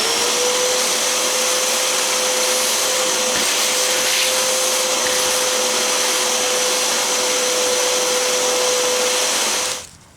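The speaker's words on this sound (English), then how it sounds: "Then you get your shop vac" A shop vac running close and loud while it vacuums debris from a stone patio, a constant high whine over a rushing airflow hiss that holds steady before winding down at the end.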